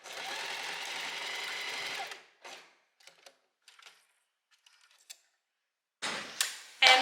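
A sewing machine stitches dress fabric in a steady, fast run of about two seconds, then comes a string of soft intermittent clicks and taps before a second louder burst of stitching near the end.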